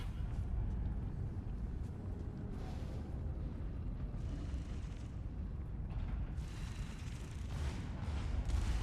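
Gunfire in a competitive FACEIT League match between Redline and Al Qadsiah, distant rattling bursts and booms in a continuous low rumble of battle noise, no voices.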